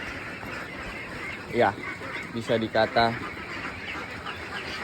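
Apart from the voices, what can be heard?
young meat ducks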